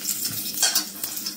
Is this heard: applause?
no